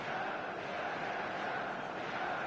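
Match day football crowd in a video game, a dense steady roar filling the stadium at constant loudness without clear individual voices.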